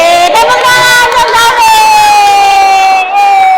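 A classroom of schoolchildren shouts and cheers together in a loud, sustained burst of high voices that gradually tapers off; distinct clapping is not clearly picked out.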